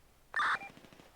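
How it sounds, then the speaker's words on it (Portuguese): A single sharp, bright burst of synthetic gunfire in GTA roleplay, loud and close, followed by a faint, rapid ticking tail fading away. "Esse tiro aí é tu que tá dando, Zeron?"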